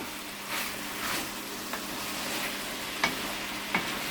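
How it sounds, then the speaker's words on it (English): Potatoes and mushrooms sauteing together in a pan for a beef heart stew, a low steady sizzle with soft stirring swishes and a couple of sharp utensil taps against the pan, no one talking. "you want the potatoes and the mushrooms to be sauteed"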